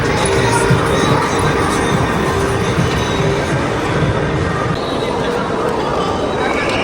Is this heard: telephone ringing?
no